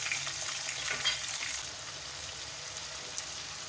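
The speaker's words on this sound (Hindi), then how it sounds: "इसको तेज आंच पे फ्राई करना है हमें।" About 1.25 kg of chicken fries in hot oil over a high flame for Afghani karahi, a soft, steady sizzle with a brief stirring rustle near the start, quiet and alone.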